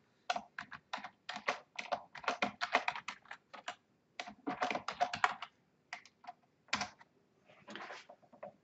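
Typing on a computer keyboard while renaming a folder, rapid irregular bursts of close, crisp key clicks with brief pauses between words, no voices.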